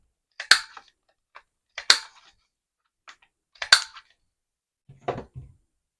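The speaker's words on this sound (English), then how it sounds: "I'm going to just corner round it." A handheld corner rounder punch clips paper corners for a mini album, four crisp snapping clicks spaced about a second apart, then a duller final press, close and alone in a quiet room.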